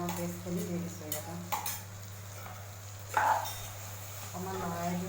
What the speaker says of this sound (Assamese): অকণমান লৰাই দিওঁ।